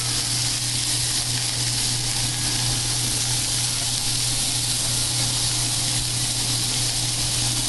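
Steak sizzling in a pan with butter, a loud, continuous frying hiss close up with a steady low hum underneath and no talking.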